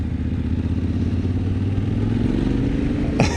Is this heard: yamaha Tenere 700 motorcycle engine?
yes